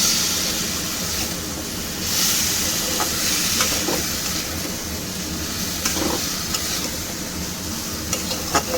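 Ground spices, red chilli powder and green chillies fry in a little oil for a shingi fish curry. A continuous hissing sizzle runs throughout, with light pops and a few soft knocks from stirring.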